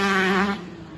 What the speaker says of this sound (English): Like that two-stroke engine.